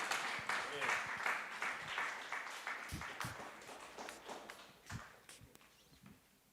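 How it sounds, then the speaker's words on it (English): An audience at an Artivism Week arts-and-activism event claps, giving a busy patter of hand claps with a few sharper individual claps, fairly faint and gradually thinning out. "Keep on clapping, please."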